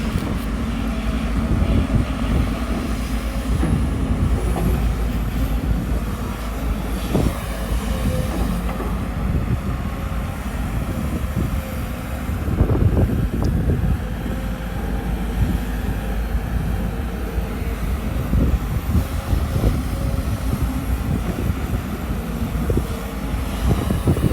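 A Komatsu PC200 excavator digging hard soil, its diesel engine droning loud and steady with repeated rises as the throttle is pushed, mixed with clanks and knocks from the machine working.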